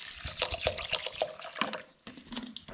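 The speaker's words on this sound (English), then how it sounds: "So first things first, just wash the rice." Rice is washed by hand in a bowl of cold water: irregular splashes, drips and sloshing swirls come in uneven bursts, close and clear, with no talking.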